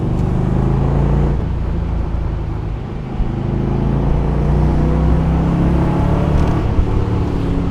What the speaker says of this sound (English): The V8 in this car is a Rover V8.